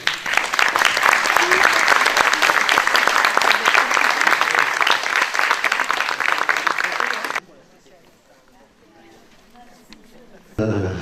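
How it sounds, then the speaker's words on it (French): Audience applause at a gathering with Argentine guests, dense steady clapping for about seven seconds that cuts off abruptly into quiet room noise, then returns briefly at the very end. "Je pense qu'on peut collectivement les applaudir."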